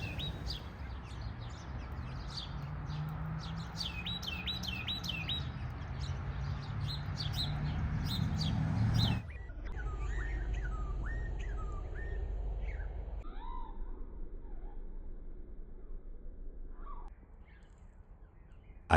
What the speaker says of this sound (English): I think they were cardinals